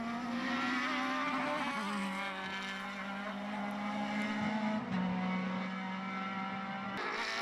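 Formula BOSS Ireland race cars, including an F3 car, scream past on track, a faint, steady high engine whine that drops with gear changes under the ambience.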